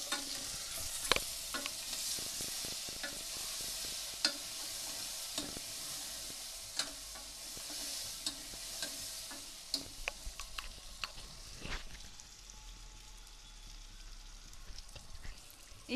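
Eggplant pieces cooking in oil with turmeric make a continuous soft sizzle, broken by frequent sharp scrapes and taps of a spoon stirring the pan, close by and with no voices.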